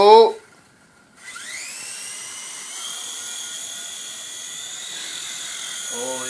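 A remote-control toy helicopter's rotor whirs steadily at close range with a high, buzzing electric whine that rises as it spins up, preceded by a brief voice and gap, with talk returning at the end.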